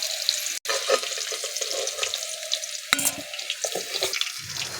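Potatoes browning in hot oil give off a close, continuous sizzle, with scattered clinks and a sharp knock midway; no one speaks.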